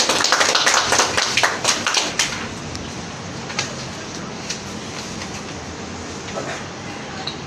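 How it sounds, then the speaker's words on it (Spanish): Audience members at a workplace safety and health meeting clap in a brisk burst for about two seconds, then it fades to scattered claps and room noise. "le recibimos con fuertes palmas"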